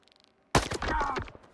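A single rifle shot from a Grom S-14 or S-15 in the shooter game STALKER 2 cracks out sharply after near silence, with a short ringing tail and no talk over it.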